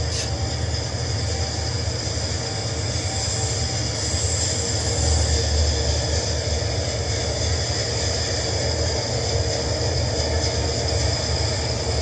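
A train rolls into a rail yard in the Trainz video game as a steady, dense drone of rolling wheels and engine noise, with constant, even loudness throughout.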